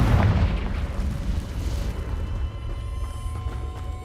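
A Confringo blasting spell explosion in a Harry Potter video game, a deep loud boom at the start that fades into a rumbling, crackling tail of debris and lingering blast noise.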